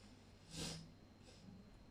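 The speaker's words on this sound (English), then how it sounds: "I'm sorry about the sniffing." A single quiet nasal sniff from a person with a runny nose, close and faint against a low room hum, followed by a softer second breath.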